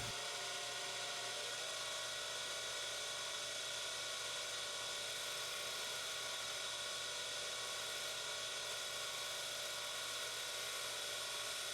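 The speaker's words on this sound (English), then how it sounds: "I have decided to change tool and try with this spindle gouge." A spindle gouge cuts a wood spindle on a lathe, making a steady, fairly faint whirring hum with a constant machine drone throughout and no speech.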